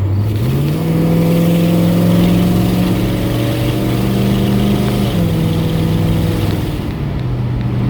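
A 1968 Ford Galaxie V8 engine is revved hard and the automatic transmission downshifts, the loud, close exhaust note climbing in pitch, dropping with a shift, then settling to a steady drone.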